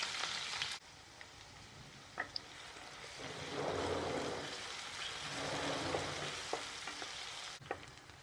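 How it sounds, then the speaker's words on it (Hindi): Finely chopped onion with cumin fries in a pan for raw banana masala sabzi, a soft steady sizzle with occasional clinks and stirring scrapes, quiet and close, without speech. "अब प्याज हमारी पसंद के मुताबिक पक चुका है, इसे यहीं पर रोक लेना है, ज़्यादा लाल नहीं करना।"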